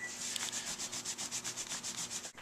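A MacBook power adapter is polished by hand, a fast, even series of soft rubbing strokes, close and fairly quiet, with no talking.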